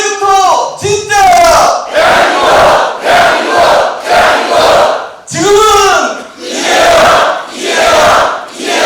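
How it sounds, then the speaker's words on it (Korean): A large rally crowd for a Democratic Party presidential election event chants the candidate Lee Jae-myung's name in loud, rhythmic bursts, each syllabic shout repeating in a steady cadence with brief gaps, voices massed and close. "지금은 하면 이재명을 세 번 해주십시오"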